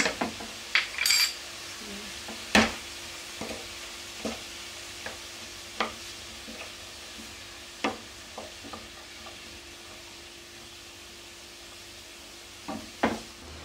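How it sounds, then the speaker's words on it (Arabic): Onions and peppers sauté in a pan with cumin and other spices, giving a soft background sizzle broken by sharp, scattered clinks of a utensil against the pan. No one speaks. "صافي درت البصله والفلفله كيتشحروا"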